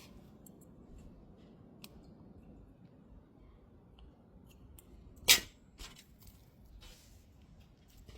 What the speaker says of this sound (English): I'm now gonna snip off